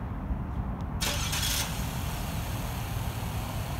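A 2017 Chevy Malibu LS with a 1.5-liter engine starts by remote start: a brief cranking burst, then a steady idle hum under outdoor noise.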